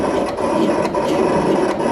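A Summa vinyl cutter runs steadily at 20 inches per second, a continuous mechanical whir and rasp with brief rhythmic dips as the blade carriage moves.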